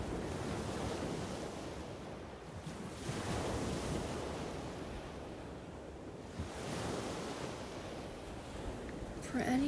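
Ocean waves roll in and wash out in slow, soft surges every few seconds, with a steady windy hiss beneath the swells.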